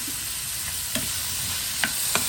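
Tomatoes for chutney sautéing in a pan, with a steady soft sizzle broken by a few sharp clinks of a spoon stirring against the pan, close by and with no talking.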